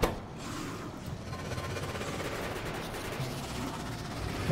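Dense, rapid bursts of automatic turret gunfire in Factorio crackle continuously, steady and fairly loud throughout.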